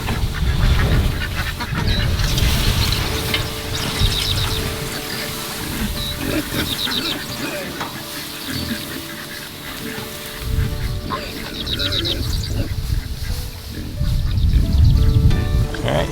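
Ducks on a farm pasture quacking in a noisy flock, steady overlapping calls close by, rising and falling in bursts.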